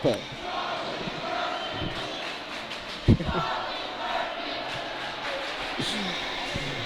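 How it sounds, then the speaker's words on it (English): A crowd at a high school hockey game between St. Paul's School and Brewster Academy chants the goaltender's name, a steady roar of voices with a loud thump partway through. "Crowd chanting goaltender Charlie Murphy's name"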